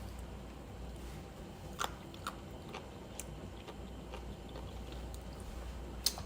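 Quiet crunchy bites into a home-canned pickle, a few sharp snaps spaced out over steady low background noise, close to the microphone.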